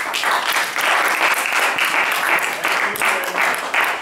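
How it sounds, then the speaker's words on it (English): A crowd applauding steadily, dense clapping that swells and holds for several seconds without talk. "give them a round of applause"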